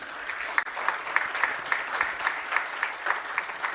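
Rhythmic clapping from a conference audience in unison, fairly steady beats at a moderate distance over a light room murmur.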